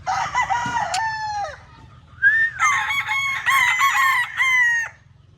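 A rooster crows twice, loud and close, the second call longer and more drawn out, over a low steady hum.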